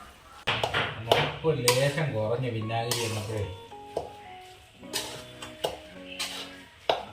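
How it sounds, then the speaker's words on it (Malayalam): A metal spoon clinks and scrapes against a pot while sardine pickle is stirred with vinegar, with sharp knocks scattered under someone talking. "വിനാഗിരി ഒഴിച്ചു കൊടുത്തതിന് ശേഷം നല്ലതുപോലെ വീണ്ടും ഒന്നിളക്കി"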